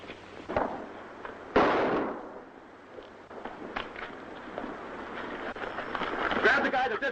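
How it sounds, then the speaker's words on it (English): Gunshots in a 1943 western film, several sharp bursts and pops mixed with shouting voices and scuffling action, loud and close. "Grab the guy that did the shooting."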